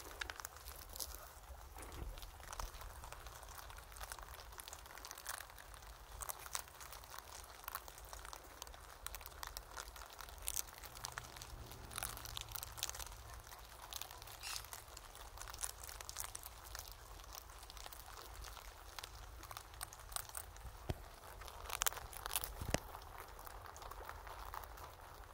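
Poultry crowded together pecking at crispy probiotic-rich feed, giving a steady, faint crackling and crunching texture with scattered sharper crinkles throughout, fairly quiet and with no voices.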